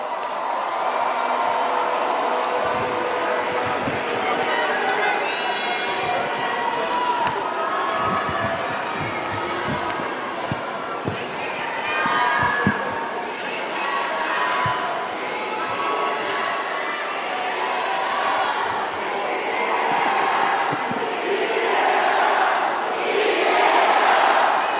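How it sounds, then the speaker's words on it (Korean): A large crowd at a party convention roars, cheers and claps steadily, a dense, loud wash of voices and applause that swells near the end. "여러분, 다시 한번 큰 박수 보내주십시오."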